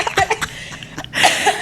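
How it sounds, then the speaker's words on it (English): A few short bursts of coughing from a woman, close and loud, followed by a brief noisy breathy sound. "She was about to lose her life just holding a cough."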